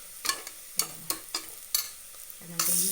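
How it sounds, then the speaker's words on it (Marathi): Turmeric frying in hot oil for a village-style mutton dish, stirred with a series of sharp spoon scrapes and clinks over a soft sizzle that swells near the end, with no talking. "ही हळद थोडीशी हलवते जरा तेलावर तळलेली चांगली असते हळद तळलेली"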